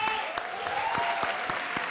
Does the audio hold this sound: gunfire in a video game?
no